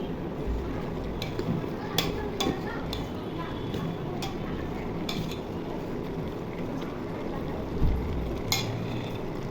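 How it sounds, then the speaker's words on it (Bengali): Bottle gourd greens cooking in a pan, stirred with a utensil: soft sizzling under scattered scraping clicks and taps against the pan, with a voice speaking at times. "শাক নেড়ে চেড়ে দিই। শাক সিদ্ধ হইতেছে এখন।"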